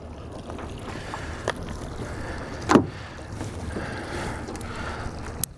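Stabicraft boat with its motor idling on Puget Sound while crabbing, a low steady engine drone under wind and lapping water, broken by a brief clunk and a sharp knock near the end.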